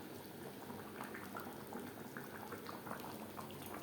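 A mutton and tomato curry with potatoes bubbles steadily in a pot, a continuous soft simmering burble with small popping bursts, faint and close, with no voices.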